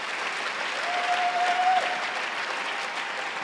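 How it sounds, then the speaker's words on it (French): Church congregation clapping steadily in a dense, continuous round of applause that swells slightly midway, with a faint sustained tone briefly audible over the clapping. "Oui, on peut bien acclamer."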